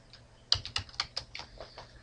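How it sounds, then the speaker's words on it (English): Keys tapped one after another on a computer keyboard while entering text in a word processor, about a dozen quick, light clicks in an uneven rhythm, close and fairly quiet with no talking. "let me type some text"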